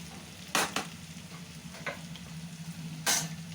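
Potato curry in a pan, a low sizzle beneath a few sharp scraping strokes of a spoon as the mixture of potatoes and tomato is stirred, heard close with no talking.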